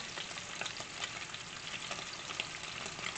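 Jumbo paleo crab cakes, loosely packed and falling apart, fry in a pan three at a time, giving a steady, dense sizzle and crackle with no talking.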